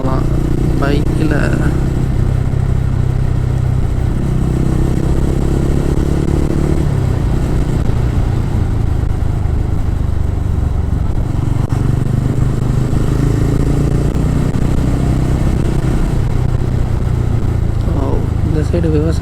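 Motorcycle engine running steadily while riding on a hill road through farmland, a continuous close drone that shifts slightly in pitch, with people talking over it throughout.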